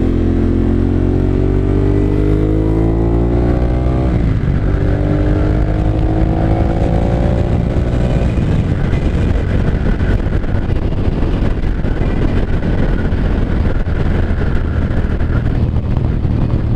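A 2014 Ducati Monster 1200S engine while riding in low-power urban mode, rising through the revs, dropping at a gear change, climbing again, then settling into a rough rumble mixed with wind buffeting on the microphone.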